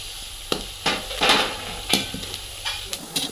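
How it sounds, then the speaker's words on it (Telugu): Curry leaves hit hot oil for tempering a black-eyed pea pulusu, giving a soft sizzle broken by several sharp spoon scrapes and clatters against the pan. "ఈ స్టేజ్లో కరివేపాకేస్తున్నాను"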